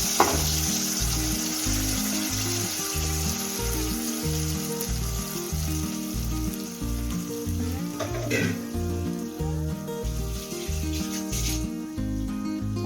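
Ground masala paste sizzles and fries in a pan for channa masala while being stirred, a steady close crackling hiss with scraping of the spoon and no talk.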